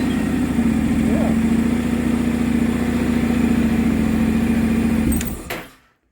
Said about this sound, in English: We'll start the bike up.